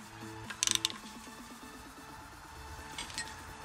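A ratchet snugs down oil pan bolts on a Honda Accord V6 in a run of quick, even clicks, quiet and close, with a few sharp metallic knocks near the start and another brief clatter later.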